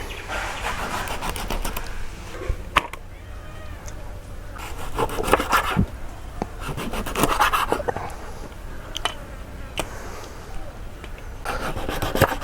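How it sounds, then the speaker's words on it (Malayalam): Knife cutting through manthal (sole fish) in a home kitchen, with repeated scraping, rubbing strokes against bone and a board, uneven and close, without speech. "അപ്പം നമുക്ക് മാന്തൾ കട്ട് ചെയ്തെടുക്കാം"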